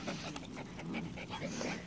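Toy sheltie puppies whimper, yip and pant in quick, irregular bursts, several small voices close by overlapping through a busy, noisy room.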